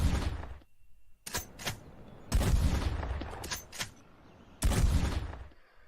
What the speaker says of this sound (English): you have the high-impact shotgun as a powerful weapon should you find yourself confronted by wild beasts or enemy in close combat